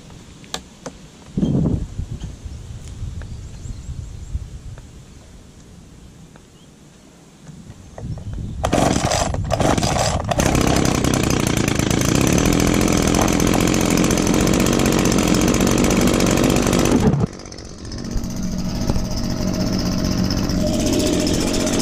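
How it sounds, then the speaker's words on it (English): An Echo PB251 leaf blower is started after lawn mowing, a short pull and sputter followed by a loud steady high-pitched roar close by that runs for about eight seconds, then drops to a lower idle. "now we'll do the blowing with the Echo PB251"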